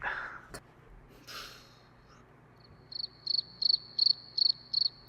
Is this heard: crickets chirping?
yes